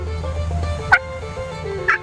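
A wild turkey hen gives two short, sharp calls about a second apart, fairly near in an outdoor setting, over a steady low hum.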